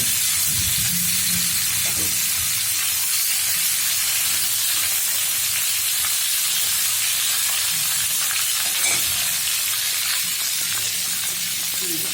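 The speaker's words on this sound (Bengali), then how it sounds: "তখন তাড়াতাড়ি ভেজে নেব।" Green banana frying in a pan, giving a steady loud sizzle and hiss throughout with occasional stirring scrapes and no speech.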